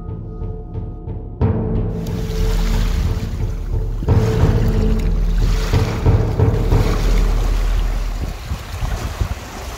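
Sea waves splash ashore in a steady, loud wash of surf with gusty wind rumble, rising in after a soft tonal opening and rolling on continuously without voices.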